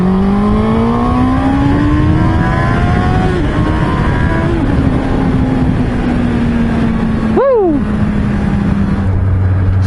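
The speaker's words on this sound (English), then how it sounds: "If I see a long straight, I like to rev it out like this." A Honda CB650R motorcycle engine revs out hard on a long straight, its pitch climbing steadily and then holding high and loud. A sharp whoosh of a passing vehicle sweeps through near the end.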